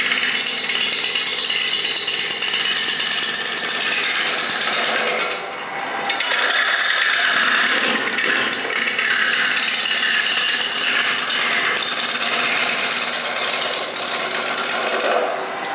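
A wood lathe spins an uneven, out-of-balance blank while a tool trims its wobbling edges, giving a loud continuous whirring and grinding roar with a brief dip partway through.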